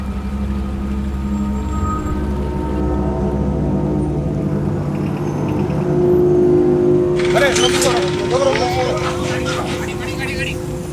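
A motorbike ridden by a youngster pulls away, its engine rumbling steadily and close before fading as a higher rushing noise takes over, while voices carry on in the background.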